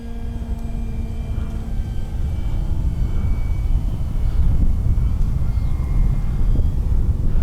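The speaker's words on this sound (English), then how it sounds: "Basically, it's an aerobatic plane" FMS Pitts 1400mm RC aerobatic biplane cruising overhead, a steady droning electric motor and propeller hum with low rumble and some wind buffeting, fairly loud and continuous throughout.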